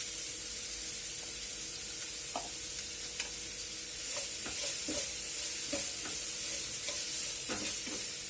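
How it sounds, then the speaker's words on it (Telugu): Vegetables fry in oil on high flame for veg Manchurian, giving a steady close sizzle with repeated scraping and stirring taps of a spoon against the pan. "వెజిటేబుల్స్ అన్నీ కొద్దిగా ఆయిల్లో కుక్ అయ్యేదాకా ఫ్రై చేయాలి."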